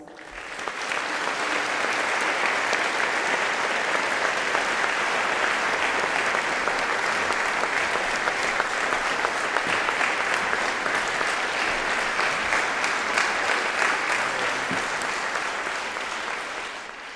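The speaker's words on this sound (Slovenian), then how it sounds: "namenimo mu aplavz" A concert audience at a music school gives a sustained round of applause for the accordion orchestra's conductor, a dense, loud clapping that swells quickly and holds for about fifteen seconds before tapering off.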